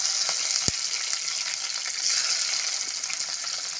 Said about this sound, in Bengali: আমি আগে ক্যাপসিকাম আর টমেটোটা একটু হালকাভাবে ভেজে নেব